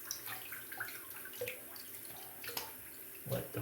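Water running from a tap while the face is wetted for a shave, a soft continuous splashing and trickling stream with a few brief louder splashes near the end, close by and on its own.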